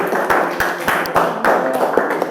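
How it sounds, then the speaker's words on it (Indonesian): Students in a physics classroom lesson on Kirchhoff's law clap for classmates, a loose, uneven patter of hand claps with some sharper individual claps standing out, close and moderately loud. "Kita beri tepuk tangan dulu untuk teman kalian"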